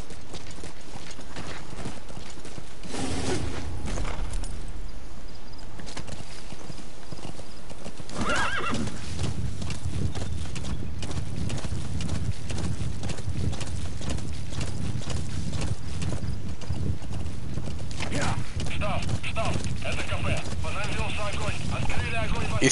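A horse in a video game clip-clops along with steady rhythmic hoofbeats and gives several loud whinnies, while a person talks over the game sound.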